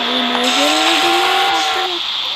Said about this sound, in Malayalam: പക്ക ഡ്രിഫ്റ്റ് അടിക്കുന്നു. അയ്യോ, ഭയങ്കര ഡ്രിഫ്റ്റ്.